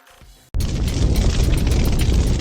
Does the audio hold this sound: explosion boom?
yes